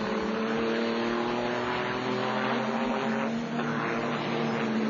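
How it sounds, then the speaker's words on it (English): A GT race car pulls away at Watkins Glen during a 1999 FIA GT round, its engine a steady droning roar with sustained tonal whine, loud and continuous without a voice over it. "And away goes the number 2 car."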